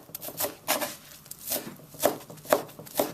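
Knife chopping baby pak choy into small pieces on a board for momo filling, a run of close, irregular cutting taps spaced roughly half a second apart, with no talking.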